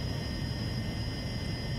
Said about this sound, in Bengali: তো আমাদের প্লেন কিন্তু এখন জোরে টান দিছে।